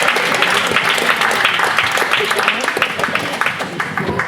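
Audience applause at a spoken-word poetry session, loud, dense clapping and crowd noise filling the room throughout, with voices mixed in under the clapping.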